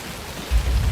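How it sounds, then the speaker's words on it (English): Heavy storm rain in the video game Twisted, a dense steady hiss of falling water with a low rumbling swell midway, loud and close. "it's because I'm in the middle of a storm"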